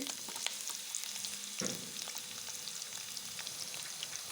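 Whole spices and green chillies fry in hot oil, a faint, steady sizzling crackle with one brief clatter partway through and no voices.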